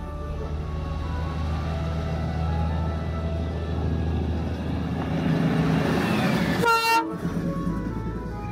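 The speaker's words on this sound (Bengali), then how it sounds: "সেদিন এখানে টয় ট্রেনের দেখাও পেয়েছিলাম আমরা।" Darjeeling toy train at Batasia Loop in the hills, a steady rumble of the train moving close by, with a brief high horn toot near the end and a short drop before the running noise resumes.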